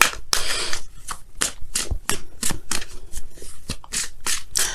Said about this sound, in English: let's go ahead and pull your Wisdom of the Oracle card